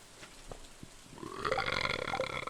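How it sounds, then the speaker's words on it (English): A long, rising burp swells in from about the midpoint and carries to the end, loud and rumbling with throaty harmonics, set against a quiet background with a few faint clicks beforehand. "that was quite the burp."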